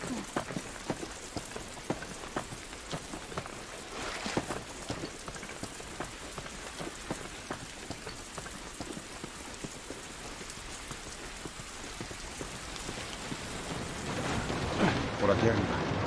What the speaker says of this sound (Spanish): Esta lluvia no nos ayudará.